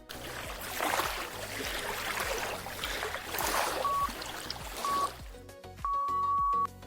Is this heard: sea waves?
yes